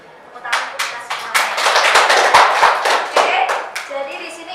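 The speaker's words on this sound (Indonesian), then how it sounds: "Tepuk tangan untuk kita semua." Students in an Indonesian sociology classroom clap together, a loose, uneven run of sharp hand claps that swells and trails off, close and fairly loud, with a few voices mixed in.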